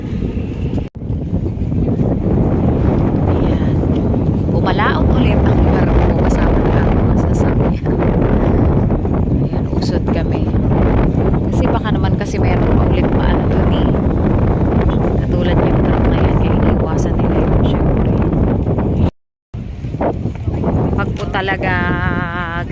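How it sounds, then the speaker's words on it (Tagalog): Strong northeast monsoon wind at sea near a stranded ship, a loud continuous roar buffeting the microphone, with a voice speaking through it and a brief dropout near the end. "sobrang lakas po talaga ng amihan"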